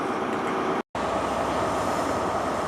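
A Great Western Railway train pulls out of Plymouth station with a steady, close rumble of wheels and engine, broken by a brief dropout, no voices over it.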